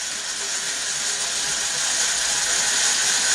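A small hand drill bores straight into the body of a radio-controlled model plane, giving a continuous, close, high-pitched whirring hiss that holds steady and fairly loud throughout with no talking.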